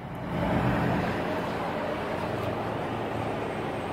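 A Peterbilt truck with a Caterpillar engine runs steadily nearby, a loud continuous low rumble that swells slightly early on and then holds even, with no talk over it.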